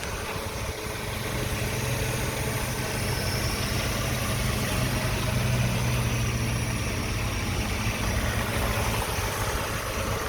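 Mercedes W124 300E 4MATIC engine idling steadily and evenly, a continuous close mid-low hum with no voices over it.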